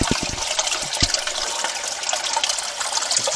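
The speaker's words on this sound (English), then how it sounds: "There's the water right there. It's coming out of that crack." Water trickles out of a crack in the wall of an old springhouse, a steady close hiss of running liquid with a few soft knocks near the start.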